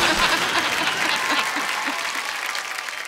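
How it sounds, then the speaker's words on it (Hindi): A studio audience claps loudly to welcome the chief guest on a comedy talk show, a thick, sustained wave of applause that eases slightly toward the end, with faint voices underneath. "जोरदार से ताली से आप उनका स्वागत करेंगे"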